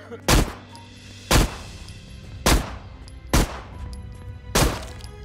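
Five loud, sharp shotgun blasts ring out in the zombie shooter Zompiercer, spaced about a second apart, each a hard bang with a short decaying tail over low game ambience.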